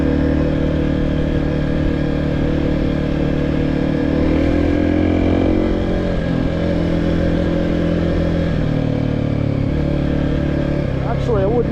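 A Kawasaki KLX 300 dirt bike on an early spring forest trail in New Hampshire, its engine droning loud and close with rising and falling revs, while a rider talks over it.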